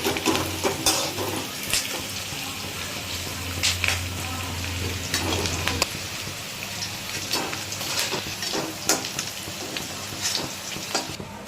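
Eggs frying in hot oil in a pan for an egg do pyaza, a continuous crackling sizzle with scattered sharp pops, fairly close and steady throughout, with no talking.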